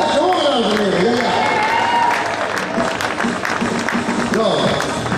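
Crowd applauding at a CEV Queen & King of the Court beach volleyball match, steady clapping and light cheering under an announcer's voice speaking over a loudspeaker.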